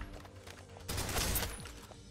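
Enemy cannon fire in the shooter game Snowbreak: Containment, a quiet bed of game effects broken by a sudden loud burst of blasts midway that fades back down.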